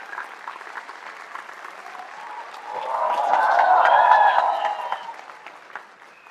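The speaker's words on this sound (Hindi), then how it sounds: "ढंग से ताली बजा दो।" Moderate clapping from an audience at a medical exam-prep event in Delhi, a soft, continuous patter with a swell of crowd voices and cheering in the middle before it settles back down.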